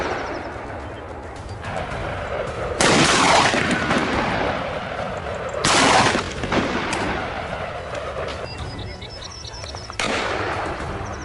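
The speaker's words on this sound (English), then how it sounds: "a cold, precise shot into the air" Single rifle shot fired at a wild boar during a hunt in the Ardennes forest, a sharp loud blast with a long decaying echo, followed by a second similar report a few seconds later.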